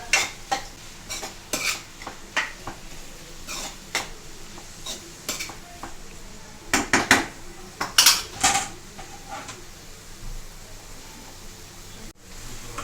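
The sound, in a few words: green chilies and onions frying and being stirred in a pan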